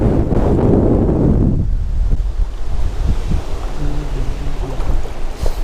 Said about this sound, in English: this wind is rough